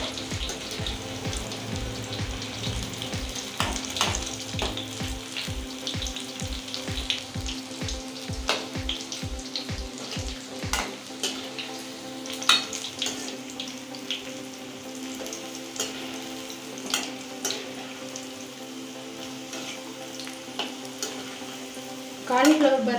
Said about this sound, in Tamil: இப்போ எண்ணெயில் சேர்க்கணும் உடனே வந்து திருப்பி விடாதீங்க